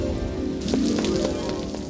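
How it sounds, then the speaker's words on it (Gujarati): Animated-cartoon rain falling, a dense steady patter of drops on a surface, fairly loud and continuous, with a few sharper splashes layered over the hiss. "જો તો આજે કેટલો વરસાદ થઈ રહ્યો છે"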